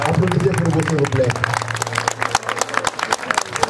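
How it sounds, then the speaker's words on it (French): Audience applause fills a live poetry and comedy show, a dense wash of clapping that runs the whole time, with a tonal voice or music trailing off near the start. "Applaudissez pour vous, s'il vous plaît."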